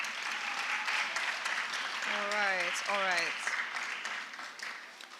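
Audience applause at a fire-side chat about the girl child, steady clapping throughout that fades toward the end, with a brief spoken remark over it.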